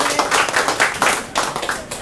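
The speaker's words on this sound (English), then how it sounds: "Give yourselves a clap." Live pub-show audience at the Tramway Hotel gives a short burst of clapping, scattered mid-distance hand claps rising and falling in uneven waves over a couple of seconds.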